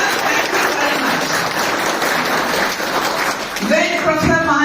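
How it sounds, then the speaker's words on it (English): Audience at an academic computing workshop giving a chief speaker a big round of applause, loud dense clapping filling the room, with a voice starting to talk over it near the end. "Big clap for him."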